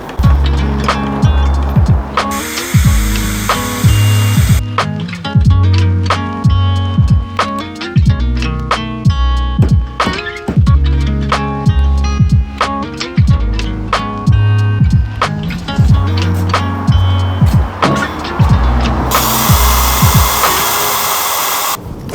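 A power drill whines and bogs down in repeated bursts, rising and falling as it bores a hole in wood for a thick dowel, with brief high-pitched revving at start and end.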